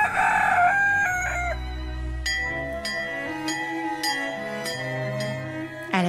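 A rooster crows loudly at the start on a farm, followed by bright ringing clinks and chimes of a bell over a low hum.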